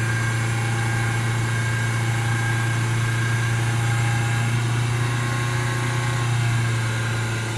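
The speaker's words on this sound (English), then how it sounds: "Tone of the engine's changing." A Citroën Berlingo 1.5 diesel engine idles steadily with a deep, constant hum and slight vibration, running alone without any talk.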